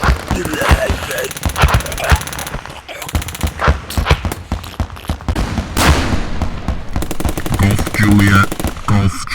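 A rapid run of gunshots, loud and close, rattling in quick bursts over shouting and other voices, like shots fired in a chaotic scene.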